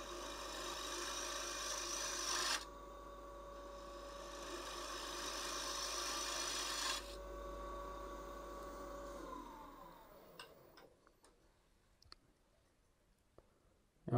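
A wood lathe whirs steadily while a tool scrapes and rasps against the spinning bottom of a wooden bowl, with pauses in the cutting, then the motor spins down into scattered clicks.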